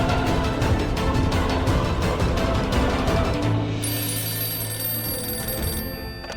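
A home landline telephone rings in rapid repeating bursts, loud and close, then gives way to a steady electronic tone in a domestic drama scene.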